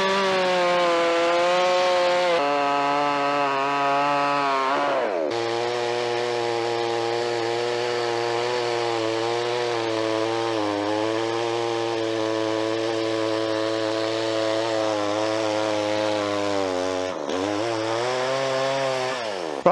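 A small budget chainsaw from Amazon or Aldi cuts through wood with a loud, sustained buzzing whine. The pitch drops and rises as the chain bites into the cut and eases off, running for about twenty seconds with no talking.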